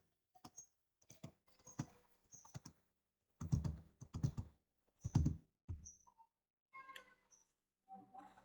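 Keys tapped on a computer keyboard while text is typed into a Microsoft Word document, coming in irregular bursts of quick clicks with brief pauses between them, close and fairly quiet.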